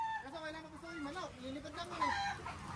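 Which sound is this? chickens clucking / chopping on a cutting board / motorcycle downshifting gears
chickens clucking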